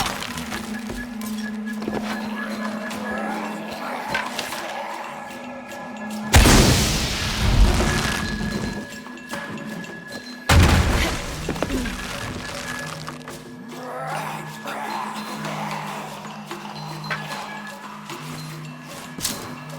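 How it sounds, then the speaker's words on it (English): Two heavy booms burst out of a quieter game soundscape in Shadow of the Tomb Raider, each a sudden loud blast with a rumbling tail, separated by a few seconds of ambient hum. "create an explosion. Create an explosion."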